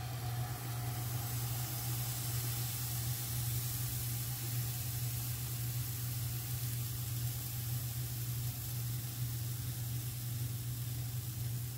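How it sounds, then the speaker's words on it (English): Protein pancake batter poured as one large pancake into a hot skillet greased with cooking spray, giving a steady, unbroken sizzling hiss over a low constant hum, with no voices. "So I'm just pouring the whole thing in there."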